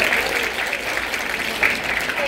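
Audience applause in a live storytelling talk, a steady dense wash of clapping that holds at an even, fairly loud level throughout with no voices over it.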